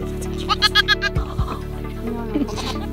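A newborn goat kid on a farm bleats in a quick quavering run of cries close by, then gives a shorter call a moment later over a low background hum.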